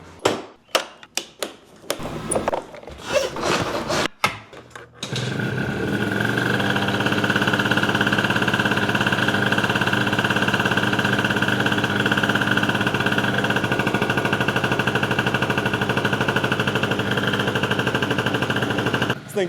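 A Yamaha Jog scooter engine rattles through a few uneven starting bursts, then catches and settles into a loud, steady, close buzzing run in a garage.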